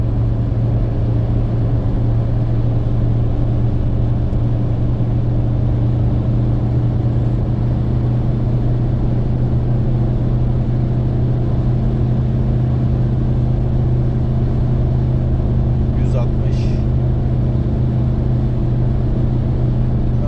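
A 2012 Ford Fiesta 1.4 TDCi diesel with 70 PS holds full throttle at high speed near 160 km/h, giving a loud, steady engine drone with road rumble and no talk.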